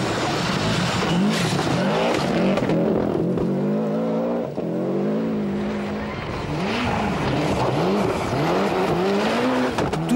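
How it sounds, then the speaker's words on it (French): A Subaru rally car at the 1994 RAC Rally braking hard on a slippery forest road, its engine loud and close, revs swooping up and down with skidding as it slides and pulls away, a commentator talking over it. "Sur un freinage ultra glissant, la Subaru parvient tout de même à repartir"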